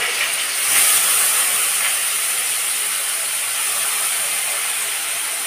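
Potatoes dropped into hot oil with dried red chillies set off a loud, steady, close frying hiss that keeps on evenly, swelling slightly at first, with no talking over it.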